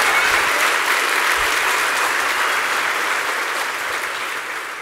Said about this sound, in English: Give a big round of applause for our good friend, Pete Hegseth.